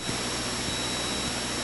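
A light aircraft engine idles at around 600 to 700 rpm, a steady close drone with a faint regular ticking pulse and a continuous whine, heard alone.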